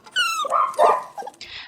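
Pug dogs howl and whimper in a leaking ship's hold with cold sea water sloshing, a short burst of high wavering howls followed by lower yelps, close and loud.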